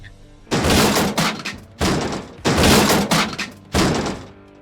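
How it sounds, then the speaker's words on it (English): An SUV slams into a parked Tesla Model Y, a series of loud heavy bangs and crunching thuds in four bursts, close and harsh with scraping between impacts. "Tiernan's wife called him to let him know that an SUV had slammed into their Tesla"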